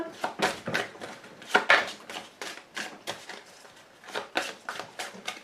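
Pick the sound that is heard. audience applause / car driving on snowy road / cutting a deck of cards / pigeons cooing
cutting a deck of cards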